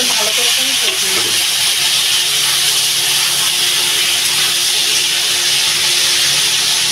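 Cumin powder and chopped tomato sautéing in hot oil in a pan for a Bengali rohu fish and potato curry: a loud, steady sizzle and hiss with a few stirring scrapes early on.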